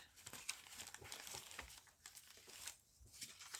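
A sheet of drawing paper is handled and crinkled up close, with dense crackling bursts running continuously, fairly quiet, and no voice over it.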